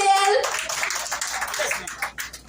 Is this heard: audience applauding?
yes